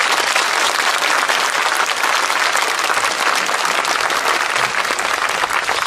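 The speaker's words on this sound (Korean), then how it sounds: "이래 박수 한번 쳐야 됩니다." A crowd at a lecture given by Kim Je-dong in Bongha Village claps loudly and steadily, a thick, even roar of many hands sustained for several seconds with no speech over it.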